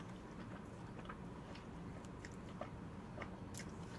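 Someone bites and chews a croffle close to the mic during a mukbang, with soft crisp crunches and moist chewing scattered over a faint, steady background and no talking.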